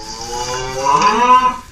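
A single long, low cow moo with a rising, drawn-out bellow, heard alone and fairly close.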